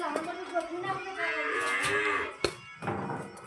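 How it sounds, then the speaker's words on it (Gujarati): A cow kept at a family home gives one long, drawn-out moo close by, followed by a brief knock and faint background chatter. "તો ગાય જોઈ લે"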